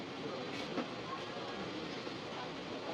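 A Howrah–Medinipur local train runs through the night, giving a steady, loud rolling rumble with rail noise that stays even and continuous throughout.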